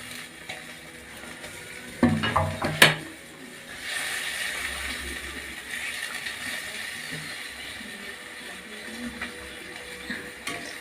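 Small chanda fish drop one by one into a simmering mustard paste gravy with a brief cluster of clattery splashes and knocks, followed by a faint, steady bubbling hiss.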